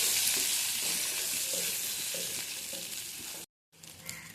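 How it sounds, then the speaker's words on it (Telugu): Soaked cashews frying with softened onions in a pan, a steady close sizzle with faint stirring scrapes, cut off by a brief silence before the sizzle resumes. "ఇప్పుడు జీడిపప్పుని వేయించుకుందాం, నానబెట్టుకున్నది."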